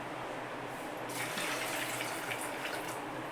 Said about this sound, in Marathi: पाणी घालते त्यात